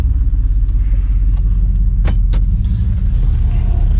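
A loud, low, uneven rumble from a rough-running car engine pulses close by, with a couple of sharp clicks partway through.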